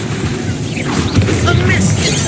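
An Incendio fire spell is cast in the Hogwarts Legacy video game: a loud, dense burst of roaring fiery whoosh that fills the short moment without a break.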